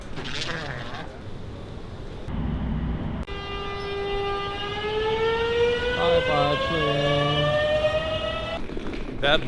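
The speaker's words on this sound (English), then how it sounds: "That was a fast train. It is called the Flytoget, so I also believe it is a fast line train." A Flytoget airport express train in Norway rushes past, its rumble giving way to a loud sustained horn-like tonal whine that slowly rises in pitch before fading, with some voices around it.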